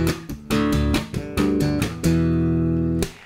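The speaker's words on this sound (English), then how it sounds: "So when we talk about strumming on bass, we usually mean the strumming of chords" Chords strummed on an electric bass guitar, several short sustained chord hits in a row ending on one longer ringing chord, played close and alone with no voices.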